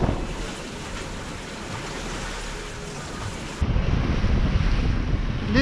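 Wind and choppy surface waves on the Mediterranean Sea, heard from aboard a sailboat: steady rushing wind buffeting the microphone, with a louder, deeper wash of water surging in near the end.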